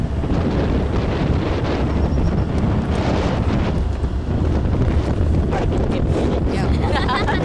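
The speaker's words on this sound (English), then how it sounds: "really good to have the wind blowing your hair in your face" Wind roars steadily over a moving boat, a loud, continuous buffeting rush against the microphone with the churn of water beneath, unbroken for the whole stretch.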